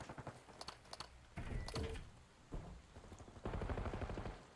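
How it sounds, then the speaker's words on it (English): Gunshots in a competitive shooter video game match, several sharp cracks and bursts spaced irregularly, with mechanical clicks and rattles between them and no talk. "Heard gunshots over there"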